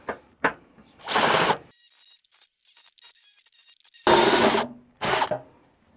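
A step drill bores through thin sheet metal while a snorkel is being fitted, giving several loud grinding bursts separated by pauses and a stretch of sharp, high metallic chatter, close up and with no talking.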